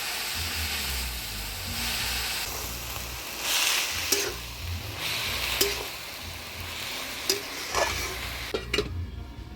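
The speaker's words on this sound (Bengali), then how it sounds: "শাকটা ভালো করে নাড়াচাড়া করে নিলাম।" Kolmi (water spinach) greens frying in a pan with salt, turmeric and green chilli, being stirred; a steady sizzle with repeated scraping strokes and a few sharp clinks of the utensil against the pan, close and without speech.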